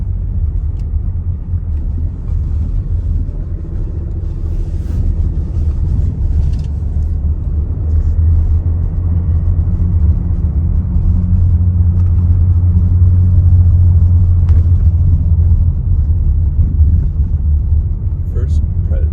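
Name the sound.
car driving over cobblestone road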